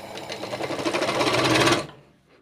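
A sewing machine stitching a blouse waistband, running in a fast even rhythmic whir that builds slightly in loudness before stopping abruptly near the end.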